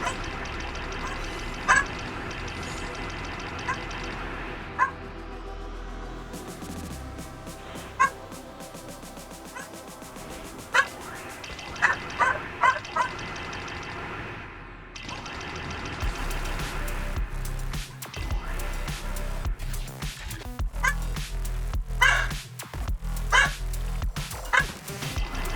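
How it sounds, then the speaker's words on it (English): A dog yips, barks and whimpers off and on over a long stretch, with sharp bursts scattered among steady background noise and occasional louder low rumbles. "I'm not going to be able to mute my dog or anything"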